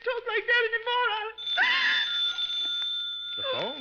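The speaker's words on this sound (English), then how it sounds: "The phone, Matilda." A telephone rings in an old radio drama, a sustained electric bell tone following a wailing voice, with a brief vocal sound at the end.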